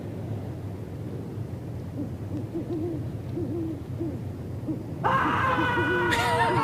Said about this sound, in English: Of course, you gotta have the owl action.